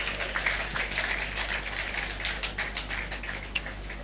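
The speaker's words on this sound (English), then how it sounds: "Please give our chairman a big round of applause." Audience applause at a memorial lecture, steady dense clapping from a hall crowd that holds fairly constant for several seconds, moderately loud with a sharper clap standing out near the end.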